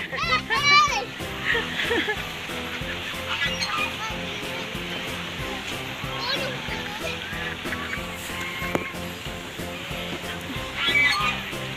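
Muscovy ducks honk and call repeatedly amid a busy outdoor scene at a farm, with children's voices and chatter throughout.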